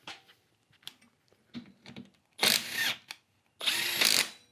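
An 18V 3/8-inch drive cordless impact wrench spins off 12 mm alternator bolts on a car engine, with two loud, close bursts of hammering whir after quieter clicks and handling noise.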